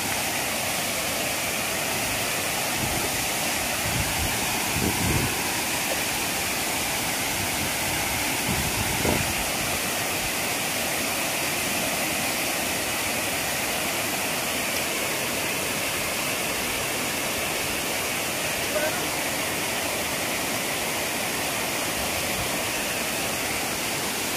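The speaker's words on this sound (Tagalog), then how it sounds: "Ito yung falls ng Barangay Damong Soran, Aroroy, Masbate" A tall waterfall in Barangay Damong Soran, Aroroy, Masbate pours with a constant loud broadband rush, steady throughout with a few faint low thumps early on and no speech.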